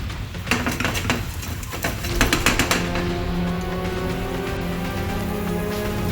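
Fridge Raiders roast-style snack bites go into a frying pan with clattering knocks against the metal, followed by a steady, close sizzle of frying that continues to the end.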